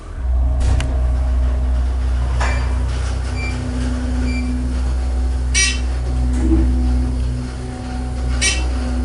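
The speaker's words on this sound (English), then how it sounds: "Listen to the motor going up to 4." A ThyssenDover Impulse hydraulic elevator's oil pump motor runs steadily as the car travels upward in a hotel, a constant low hum with occasional faint clicks and clanks over it.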